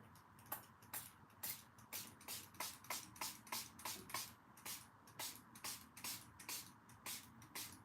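A spray bottle is pumped repeatedly, a rapid series of short, sharp hissing bursts in a steady rhythm, close and fairly quiet.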